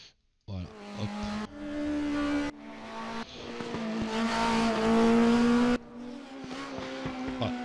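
A race car engine in the S-Room racing simulator game revs and drops through gear changes, with sharp cuts between replay segments and tire squeal mixed in, loud and close.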